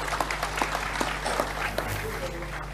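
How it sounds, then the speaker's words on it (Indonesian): Audience applause in a mosque hall during an evening gathering with Cak Nun and Kiai Kanjeng, a steady patter of claps with sharper individual hits over a low hum, fairly close and moderate in level. "tepuk tangan semua teman-teman sekalian dengan cinta."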